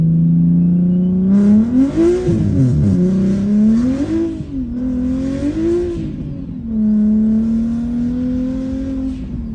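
A straight-piped big-turbo BMW 335is accelerating hard from inside the car, its loud droning exhaust climbing and dipping through gear changes, with turbo whoosh and raspy bursts between shifts and no talking.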